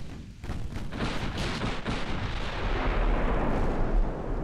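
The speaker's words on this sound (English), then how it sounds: "there comes the main salvo" A battleship main gun salvo sounds in the naval warfare game Ultimate Admiral Dreadnoughts. Heavy booming blasts and a long rumbling roll build to a loud, continuous wash of distant artillery.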